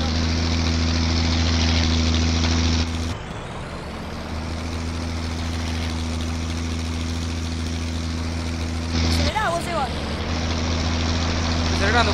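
A tractor in Farming Simulator 19 revs hard while its wheels slip in soft dirt: a loud steady engine drone with strong low harmonics, a brief drop in pitch, then renewed straining revs with some rattling near the end.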